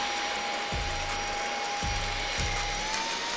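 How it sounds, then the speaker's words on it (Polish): A Xiaomi Roborock H6 cordless handheld vacuum runs on carpet with a steady, close whine and airy rush. A few low thumps sound as the brush head moves, and the motor stays at an even, loud level throughout. "odkurzacz automatycznie zwiększył moc"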